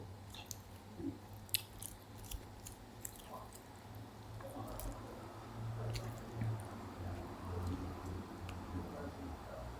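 Crunchy pita crisps being bitten and chewed close up, with soft repeated crunches and squishy mouth sounds over quiet background noise.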